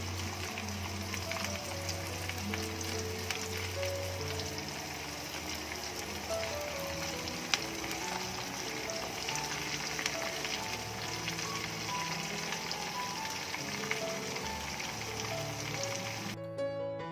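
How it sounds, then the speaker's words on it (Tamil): Prawns deep-frying in hot oil give a steady, dense sizzle with a bubbling crackle that runs on without a break, close by and fairly loud, with no one speaking. "மிச்சம் இருக்கிற ப்ரானை இதிலே போட்டு பொரிச்சிடலாம்."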